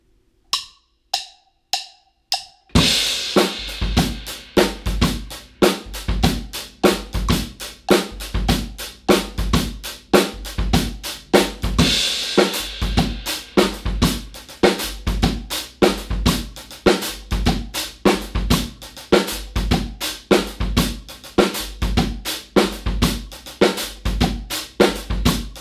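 A few sparse clicks count in, then a steady, loud drum groove kicks in in 15/16, with busy, rapid hi-hat strokes in groupings of five over kick and snare, played continuously.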